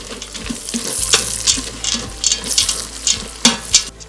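Black-eyed peas tumble into sizzling garlic and bacon in a pressure cooker, loud frying crackle with bursts of rustling and stirring scrapes, no voices.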